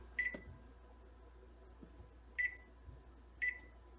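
Three short electronic beeps from a home oven's control panel as it is set to preheat to 450 degrees, each a clean tone spaced apart, over a quiet kitchen background with faint low handling noises.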